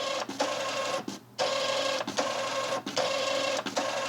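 A 41-year-old HP ThinkJet 2225A inkjet printer runs its self-test, giving a steady buzzing print-head whir broken by brief pauses and carriage returns about once a second, close and without speech.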